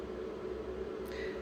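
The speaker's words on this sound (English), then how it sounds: "sorry for the noise in the background. It's a fan" An electric fan's steady whirring hum runs throughout, a constant airy drone with no talk over it.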